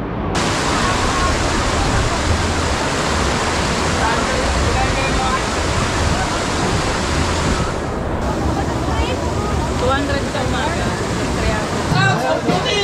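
A strong, continuous rush of flowing water, dense and loud throughout, from a fast river current close by at Dalitiwan Resort in Majayjay, Laguna, Philippines, in summer.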